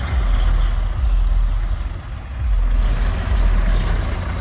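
A Ford Model A car drives along a dirt road, a steady low engine rumble with road noise that dips briefly midway, fairly close and alone with no voices.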